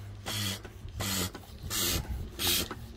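A Holt Industries fluid extractor is hand-pumped to build pressure and evacuate oil, four rhythmic whooshing strokes like a bike pump, close and evenly spaced.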